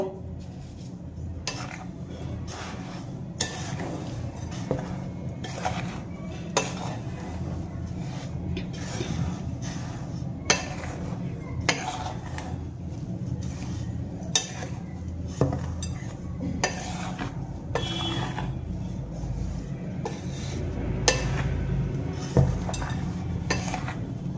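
Dry ingredients, flour, semolina and salt, mixed together in a bowl for pitha, giving a steady run of scraping and clinking strokes with irregular sharper taps, close and moderately loud with no talk.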